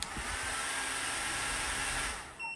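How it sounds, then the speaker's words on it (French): A hair dryer blasts at maximum power on its second speed setting while drawing from a small Fossibot F800 portable power station. Its loud, steady roar holds close for about two seconds, then drops off as the power cuts out. "si je le passe en vitesse 2, donc vraiment la puissance maximum du sèche-cheveux"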